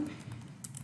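Brief, steady run of computer keyboard typing while writing Python code in the Spyder editor, soft and close, with no voice present.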